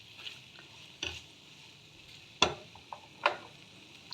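Coated prawns being mixed in a pan without water, with a few soft stirring scrapes and clinks spaced out over a quiet background.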